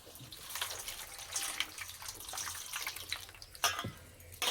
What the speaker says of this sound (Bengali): পেঁপেটাকে পরিষ্কার করে ধুয়ে নেব।